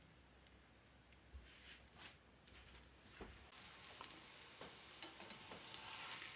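Zucchini fritters frying in a pan give a faint, steady sizzle with scattered small pops and crackles throughout, heard close and alone.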